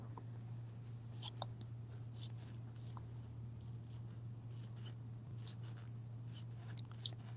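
Soft, sporadic snips and rustles of small scissors cutting Luxe Cuddle fabric for slippers, quiet and close over a steady low hum.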